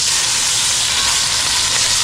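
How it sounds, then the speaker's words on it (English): Chuck roast searing in a pot makes a loud, continuous hissing sizzle that stays even and close throughout. "For a simple pot roast, sear the chuck roast."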